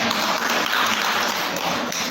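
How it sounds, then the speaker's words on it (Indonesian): A seminar audience at a kindergarten parenting event breaks into steady, continuous applause, a dense wash of many hands clapping close by. "Tepuk tangan semuanya."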